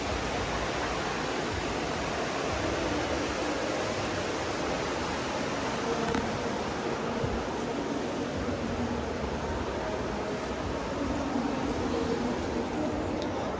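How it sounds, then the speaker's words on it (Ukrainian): Fountains in a park in Astana, Kazakhstan, splash in a dense, steady rush of falling water that holds without letup. "Фонтаны."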